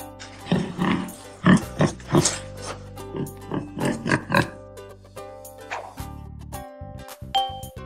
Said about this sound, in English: A pig. Wee.